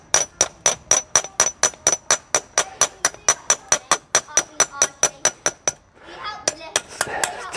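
Hammer making thousands of small, even taps on a flat metal workpiece to give it a slight curve, a fast steady run of sharp ringing strikes, then a brief pause and a looser burst of blows.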